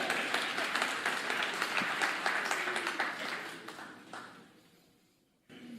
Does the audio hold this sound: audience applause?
yes